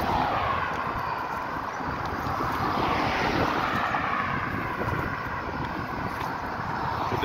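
Outdoor ambience at Grantley Adams International Airport in Barbados, filled by a continuous loud jet-aircraft engine roar that swells and shifts as the plane moves, with wind rumbling on the microphone.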